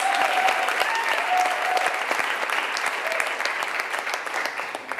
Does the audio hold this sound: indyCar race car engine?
no